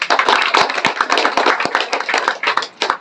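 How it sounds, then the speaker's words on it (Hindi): An audience claps loudly for meritorious students at an award distribution ceremony, a dense, sustained burst of many hands with scattered sharper individual claps throughout. "उन मेधावी बच्चों के लिए भी मैं चाहूँगा कि एक बार जोरदार ताली बजा दें"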